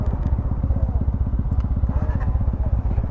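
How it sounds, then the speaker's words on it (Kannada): A KTM 390 Adventure motorcycle runs close by on a group sunset ride, its engine a steady, rapid low thumping that holds even throughout. "ವಾದಿ ಅವ್ರ ಬೈಕ್ ತೊಗೊತಾ ಇದ್ದೀವಿ, KTM 390 ಅಡ್ವೆಂಚರ್"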